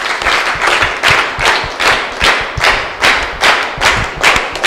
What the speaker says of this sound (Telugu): ఫాదర్ గారికి గట్టిగా చప్పట్లతో స్వాగతం పలుకుదాం